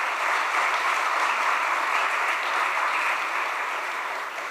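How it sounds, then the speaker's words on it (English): Dense, steady applause from an audience saluting dancers, filling the whole stretch evenly and loudly without letting up. "Can we just have another huge round of applause for them again?"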